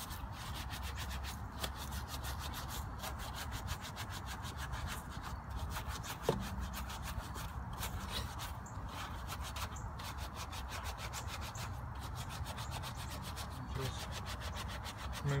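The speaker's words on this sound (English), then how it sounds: "just rub it a couple times with the brush, the soft brush" A soft brush scrubs a plastidip-coated wheel with cleaner, giving steady rapid back-and-forth rubbing and swishing strokes, close and fairly quiet, with a single small knock partway through.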